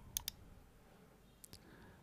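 Two quick computer mouse clicks land close together near the start, with a softer pair of clicks later, crisp and close over a faint room hum.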